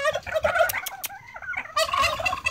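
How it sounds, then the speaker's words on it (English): Turkeys gobble loudly and close by in rapid, warbling bursts, one call after another with a short pause in the middle. "They are incredibly happy turkeys."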